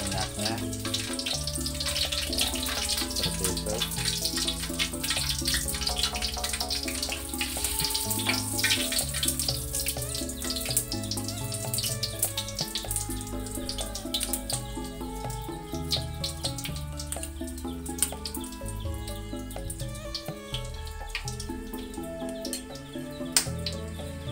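Jackfruit and long bean curry simmering up to a full boil in a pot, a continuous bubbling, sizzling wash that stays steady and close throughout, with no talking.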